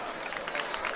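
Parents and students at a school event applaud together in a crowd, a dense patter of claps rising and falling in bursts over a short moment, with a voice speaking underneath.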